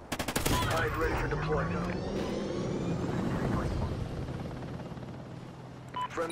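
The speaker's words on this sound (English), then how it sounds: "Friendly chopper inbound." A friendly helicopter arrives in Call of Duty Ghosts, its heavy rotor roar filling the scene amid bursts of rapid gunfire, loud and sustained before slowly easing off.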